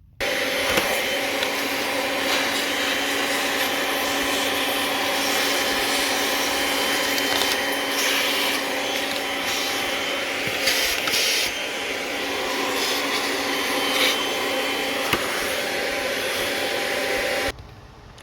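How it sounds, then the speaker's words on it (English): Small vacuum cleaner running continuously at close range, a loud steady whine as it sucks leaves and debris from around the spark plug holes of a Honda GL1500A Goldwing Aspencade motorcycle, cutting off abruptly at the end. "I'm going to run a little vacuum in there because there's a lot of leaves and debris"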